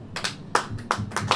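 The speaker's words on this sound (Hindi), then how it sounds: "ताली बजा दो।" Congregation clapping in bursts during a church sermon, several short separate volleys of hand claps at moderate distance, fairly quiet, with no talk over them.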